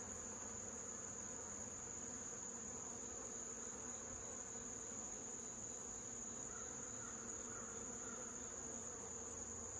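Honey bees hum in an open hive during a nectar dearth, a soft, continuous, even buzz of many insects close by, with no voices and no pauses.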